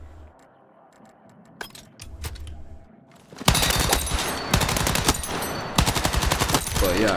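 Full-auto SMG fire in Battlefield 6, starting halfway through as loud, rapid, sustained bursts with brief pauses between them. Scattered game noises and clicks come first, with faint voice chatter in the background.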